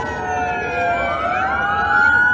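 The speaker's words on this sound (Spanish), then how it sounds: "con las sirenas alertando sobre el simulacro que se viene realizando a nivel nacional" Police sirens wail during a national emergency drill, several overlapping rising and falling tones sounding loud and close over steady street rumble.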